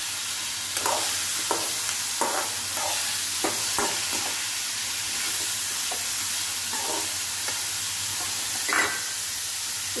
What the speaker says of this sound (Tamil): ரொம்ப செவக்க வறுக்க வேண்டாம், லேசாக வறுத்த போதும்.